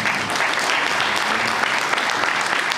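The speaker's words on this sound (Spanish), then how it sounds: "Un aplauso para Telmo" Loud, dense clapping from a crowd at a political speech event carries on evenly and close throughout, with no voices standing out.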